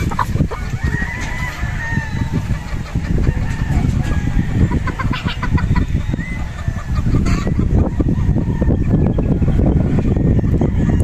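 A Golden Boy Sweater gamefowl rooster clucks steadily and close, with loud, dense calls continuing throughout, and other fowl are audible around it on a gamefarm.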